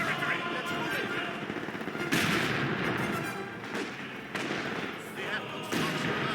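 Rapid gunfire and explosive bursts from the World War II strategy game Company of Heroes 2, dense and loud throughout with sharp heavier blasts breaking in around the two-second mark, mixed with game voice chatter.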